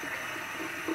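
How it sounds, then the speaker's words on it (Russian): Hot water from a kitchen tap pours in a steady, soft stream, heard briefly and fairly quietly. "Я наливаю немножко горячей воды из-под крана, чтобы она была теплой."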